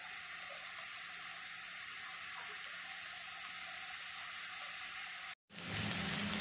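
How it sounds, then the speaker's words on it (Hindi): Steady, dense sizzle of masala with garlic and onion frying in hot oil, close and continuous, with a brief dropout near the end before the sizzling resumes. "अब ये मसाला भूनना शुरू हो गया।"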